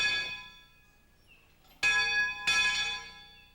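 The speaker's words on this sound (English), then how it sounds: "the original bell, which has been in continuous use" The original Shaker bell at the main house of the Abode of the Message rings out in three strikes, each leaving a long, bright resonant hum that decays slowly between blows, loud and alone.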